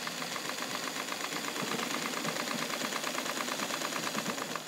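Toyota Morse Fotomatic IV zigzag sewing machine running fast, giving a continuous rapid mechanical whir with a fine regular ticking rhythm, steady and close with no talk.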